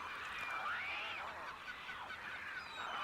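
A flock of migratory birds honking at coastal salt flats during breeding season, a dense overlapping chorus of calls carrying steadily throughout at moderate distance.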